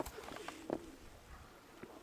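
A pigeon gives a brief, low coo at close range, with scattered soft rustles and taps around it in an otherwise quiet setting.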